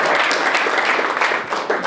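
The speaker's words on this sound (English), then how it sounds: "We can give the eagle an applaud, right?" Audience applause at a university event in Toronto, a short burst of dense clapping at close range with faint voices mixed in.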